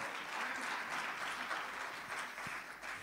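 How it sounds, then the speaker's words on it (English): A church congregation gives a sustained round of clapping, heard as a continuous wash of many hands at moderate distance. It stays fairly even and quiet throughout, with no speech on top. "Can we give the Lord a good clap offering for a moment?"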